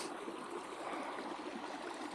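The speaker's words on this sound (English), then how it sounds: "This is the waterfall, the big rocks and everything." A creek waterfall tumbling over big rocks makes a faint, steady broadband rush heard from some distance, with no break throughout.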